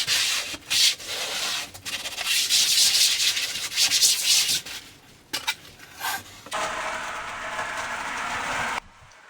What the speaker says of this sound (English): So here I'm using a putty knife, a wide putty knife, to smooth it off even more.